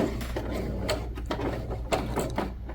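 Home sewing machine stitching a pocket onto a shirt, running in reverse and then forward: a close, steady mechanical whir with rapid clicking needle strokes, no talking.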